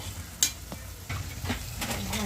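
Onion and masala sizzle in a hot pan while a spoon stirs through them, soft crackling frying under a few sharp scraping knocks against the metal, close and fairly quiet.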